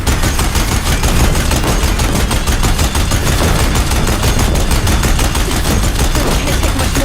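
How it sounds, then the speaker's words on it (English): Deathbringer war machines firing in Horizon Zero Dawn, a relentless rapid machine-gun barrage with evenly spaced shots, very loud and close, sustained without pause over heavy low rumble. "If the Deathbringers keep firing"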